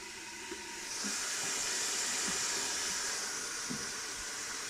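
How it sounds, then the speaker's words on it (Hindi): Masala frying in a pan for aloo matar gives a steady loud hiss and sizzle that swells after the first second and holds, with a few soft knocks underneath. "जो मसाला फ्राई हो रहा है"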